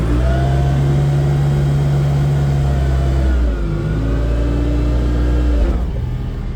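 Toyota 8FG50N gas forklift engine revving while the mast lifts a load: a loud, steady engine drone holds, drops briefly, then climbs in pitch, with hydraulic whine running alongside, close and with no talking.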